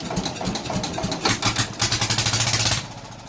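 An Allis Chalmers Big Ten tractor engine runs with no muffler, a loud, raw, rapid popping exhaust that builds into a pulsing roar and then cuts out abruptly near the end.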